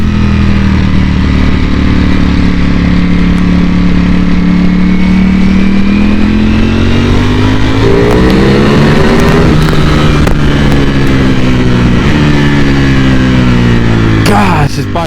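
A Ducati Panigale V4S in race mode accelerates hard, its loud engine note climbing through rising pitch sweeps, dipping at a gear change, then surging again close to the microphone.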